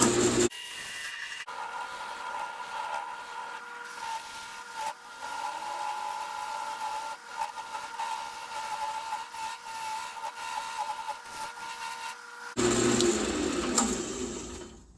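A woodturning tool cuts and cleans up the inside of a segmented wooden bowl spinning on a lathe, a steady scraping hiss over the motor's hum, with short pauses where the tool lifts away.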